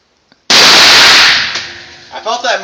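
A single loud, close rifle gunshot cracks out after a faint click, then rings and decays for about a second before voices begin talking.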